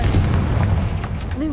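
A Confringo blast spell from Hogwarts Legacy, a loud booming burst with a rumbling low-end tail, heard at close range with faint game sounds layered over it.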